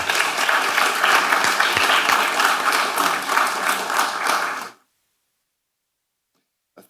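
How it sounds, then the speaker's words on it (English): Loud, sustained audience applause for a man introduced as a speaker, continuous dense clapping that cuts off abruptly after nearly five seconds into silence. "Please give a round of applause for Geoffrey Kovach."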